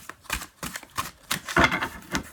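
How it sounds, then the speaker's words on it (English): Tarot and oracle cards being shuffled by hand, giving a run of quick, close papery riffles and slaps in uneven bursts, fairly soft and heard alone without talk. "As I keep shuffling."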